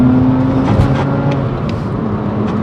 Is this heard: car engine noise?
yes